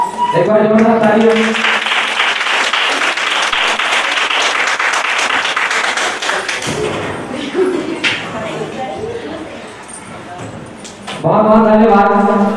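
A crowd applauds loudly at an anniversary ceremony as a guest is honoured, dense sustained clapping over several seconds that thins out near the end, with a speaker's voice coming in briefly at the start and again at the close.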